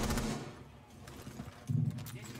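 Gunfire in the shooter game Argo, bursts of shots clustered near the start and again toward the end, mid-level and somewhat muffled, with a voice speaking underneath.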